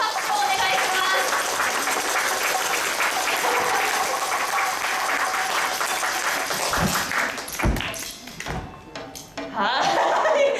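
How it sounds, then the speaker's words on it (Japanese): A crowd claps in support of Kumamon during a paper sumo match. Sustained clapping fills most of the stretch, then breaks up into a few thuds and knocks before the applause swells again. "応援の拍手をお願いします"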